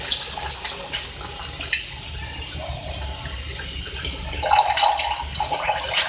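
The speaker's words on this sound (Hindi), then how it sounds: "अब इसमें जो है हम पानी ऐड करेंगे इसको मुकम्मल जो है कुक करने के लिए" Water pours steadily and splashes into a cooking pot of potato, eggplant and okra curry close by, growing a bit louder toward the end.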